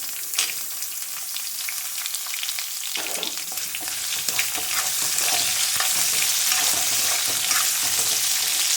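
Onions fry in hot oil for beetroot rice, a close, steady sizzle that jumps louder and fuller about three seconds in as they hit the pan, with occasional stirring clicks.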